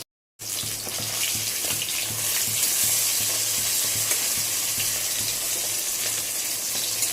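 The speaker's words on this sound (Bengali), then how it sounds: "মাছগুলো সব ভাজা হয়ে গেল।" Fish fry in hot oil in a pan, giving a steady, crackling sizzle that starts abruptly after a moment of silence and holds evenly close by, with no talk.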